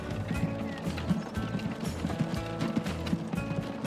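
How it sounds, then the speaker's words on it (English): A horse and cart in the video game Transport Fever 2, with hooves clopping in a quick uneven rhythm over a busy mechanical background, moderately close and fairly quiet. "Watch our horse and cart come out."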